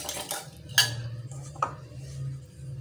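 A utensil clinks and scrapes against a bowl while milk, egg and chocolate are stirred together for French toast, two or three sharp taps over a soft steady stir and low hum.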